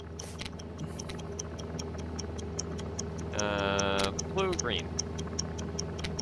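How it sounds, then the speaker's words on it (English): Steady bomb ticking in the video game I Expect You To Die, a regular clock-like tick running through the whole span at moderate level, with a voice talking over it and a brief buzzing tone midway. "No ticking is good ticking,"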